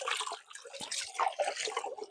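Hands are washed in stream water along a rural trail, giving irregular splashes, trickles and drips up close with no speech.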